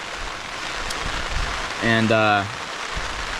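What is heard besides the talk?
heavy rain falling on tent and tarp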